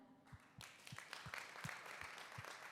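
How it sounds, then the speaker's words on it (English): A crowd at an athlete mental health event applauds the athletes, faint, distant clapping that swells after a quiet start, with a few heavier low thumps scattered through. "let's all applaud them"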